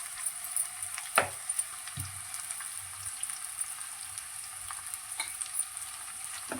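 Onion, green chillies and ginger fry in hot oil for a gonguura dish, giving a steady low sizzle with a few louder stirring scrapes near the start; no voices.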